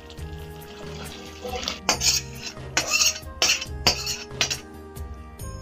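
Metal utensil clinking and scraping in a pan as cooked fish is lifted out, repeated bright clatters in uneven bursts over a low hum of running water and a faint voice.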